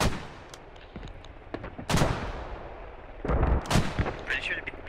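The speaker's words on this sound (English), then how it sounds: "Alright, artillery's landed." An artillery barrage lands in the Squad video game: heavy booming impacts, two strong blasts then a cluster of thuds, each rumbling away between hits, with voices talking quietly underneath.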